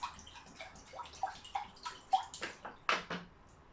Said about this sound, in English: Then all I'm gonna do is literally pour some water in here.